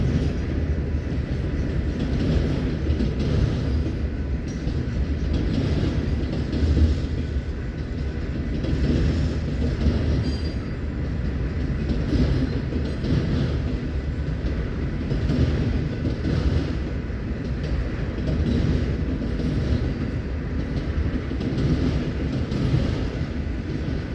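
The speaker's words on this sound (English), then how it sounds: "we got auto racks moving west here and auto racks moving north" Autorack freight trains of the Union Pacific rolling past near a rail diamond crossing, a steady continuous rumble of wheels and cars with faint clicking, sustained at even loudness throughout with no talk.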